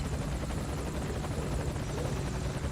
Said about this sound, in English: I'm just waiting for the helicopter